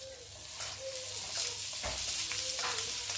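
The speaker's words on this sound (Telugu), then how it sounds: "నెయ్యి తీసుకొని ఇలా కిస్మిస్ వేసుకోవాలండి." Raisins fry in a few tablespoons of ghee, giving a steady close sizzle with soft stirring scrapes and clicks throughout, no voices.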